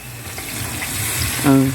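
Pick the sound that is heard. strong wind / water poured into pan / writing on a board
water poured into pan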